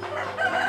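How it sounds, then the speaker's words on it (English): A chicken gives a brief, close cluck-like call lasting under a second, tonal and clear with no talking over it. "Is that a chicken in here?"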